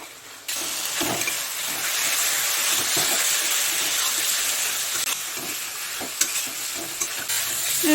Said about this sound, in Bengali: যতক্ষণ না মশলা থেকে কাঁচা গন্ধটা চলে যাচ্ছে ততক্ষণ মশলাটাকে একটু ভালো করে কষিয়ে নেব।